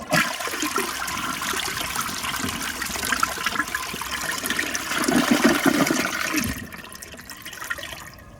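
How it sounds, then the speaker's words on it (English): An American Standard Cadet space-saver toilet does a side flush: a loud, rushing gush of water for several seconds that trails off into trickling refill. "So now I'm gonna do a side flush."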